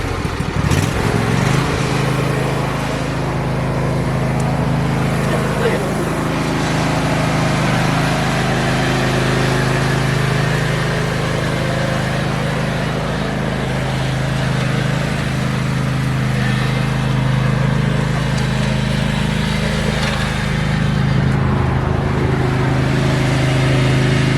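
A lawn mower engine drones steadily outdoors for the whole stretch, a continuous mid-level motor hum with slight swells, fairly close and unbroken, with no clear talk over it.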